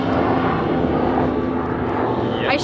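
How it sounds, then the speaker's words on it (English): An airplane passes overhead in Las Vegas, producing a steady, broad engine roar that fills the whole clip and rises slightly near the end. "now we got a plane, of course"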